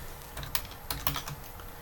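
A name typed on a computer keyboard, a short run of a few soft, irregular key clicks heard close and alone.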